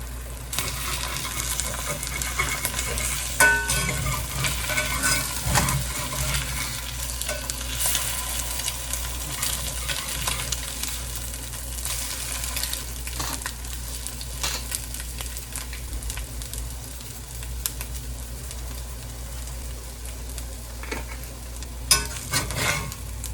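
Corned beef hash seasoned with pepper and Trader Joe's seasoning salt frying in a pan, a steady close sizzle with intermittent scraping and clinking of a spatula stirring, running continuously throughout.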